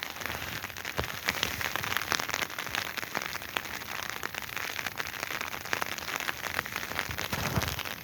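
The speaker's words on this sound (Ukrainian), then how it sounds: "Сьогодні дощик." Rain pattering steadily on a surface outdoors on a late-March day, a dense, even crackle of close drops with occasional sharper taps, continuous throughout and with no talk.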